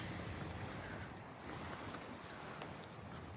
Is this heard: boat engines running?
yes